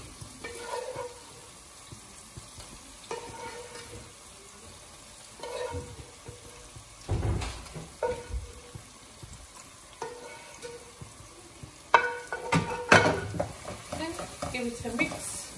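Eggs frying with onions in a pan for egg bhuna, with soft sizzling and intermittent scraping stirs at a low level, plus a few louder clinks and scrapes toward the end.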